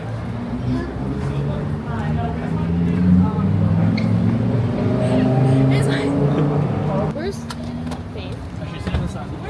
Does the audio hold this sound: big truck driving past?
yes